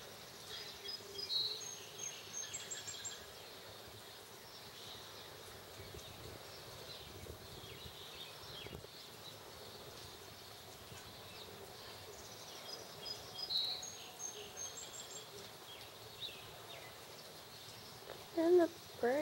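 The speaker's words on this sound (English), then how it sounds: "And the birds are being very loud." Birds calling outdoors around a home during rain, with faint chirps and trills scattered across the background and a few brief louder bursts, set against steady low ambient noise.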